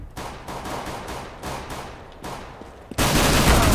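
Rapid bursts of Counter-Strike: Global Offensive gunfire, several sharp shots in quick succession, followed by a loud sustained blast of noise at the end.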